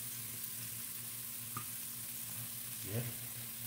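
Minced garlic frying with chicken wings in a Bicol Express-style dish, a faint, steady sizzle with a brief stirring scrape near the end.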